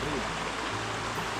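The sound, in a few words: river water flowing through a mill canal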